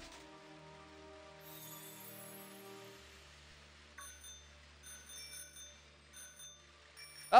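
A bell in the video game Pokemon Sword rings over and over, with bright, short chimes at intervals over a low steady game backdrop, ending in a louder burst.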